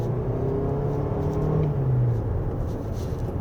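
A 2023 Toyota RAV4 Hybrid AWD pulls away in normal mode on a winding road, giving a steady low rumble and a whirring drone that rises gradually in pitch, loud and continuous, with no speech.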